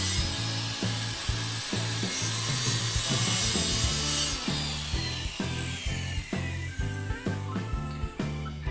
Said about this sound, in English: the circular saw is set so that it only is cutting a small groove into the Trex material